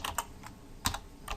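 A few quick keystrokes on a computer keyboard while JavaScript code is typed, close crisp clicks in short irregular bursts over a quiet background.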